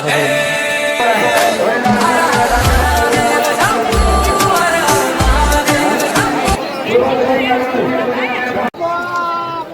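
Loud, dense hubbub of a large crowd at the Chaitra fair at Gourinath Dham, overlapping voices close by, with low thumps of movement and a sudden cut near the end.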